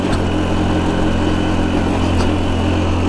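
A Honda Biz motorcycle engine revving hard with the throttle open while climbing a steep hill, a loud, steady close-up drone that holds its pitch throughout, with no talking.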